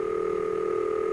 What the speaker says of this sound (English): That's the ringing signal, an interrupted burring sound.